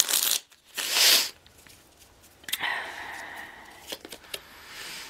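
Tarot cards being shuffled in quick riffling bursts, followed by softer card slides and taps, with a person talking in between.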